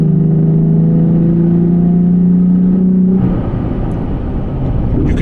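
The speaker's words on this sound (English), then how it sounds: "You can hear the engine accelerate because of the cold air intake I have on here" A Toyota Tacoma engine fitted with a cold air intake, loud and close: a steady droning rev that rises, then drops into a rougher rumbling note, with no talking.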